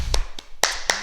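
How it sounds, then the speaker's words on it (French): Four or five separate hand claps from a small karate class in a training hall, sparse and uneven, each one sharp and close, with a short gap between bursts. "On fait s'applaudir, bravo."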